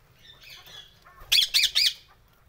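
Three loud, harsh squawks from a chick back in its nest burst out in quick succession, preceded by faint chirps and quiet background noise.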